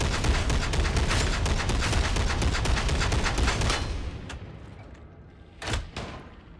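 An Ogryn's Ripper gun blasting in Warhammer 40000 Darktide, a loud rapid volley of heavy shots that trails off, followed by two more isolated bursts.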